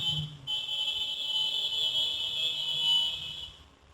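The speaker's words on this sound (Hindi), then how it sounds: "बीप की आवाज आएगी दोनों में से" A multimeter in continuity mode gives a steady, high-pitched electronic beep while a fuse is tested, sounding almost continuously for about three seconds and then cutting out, close and clear, with no talking.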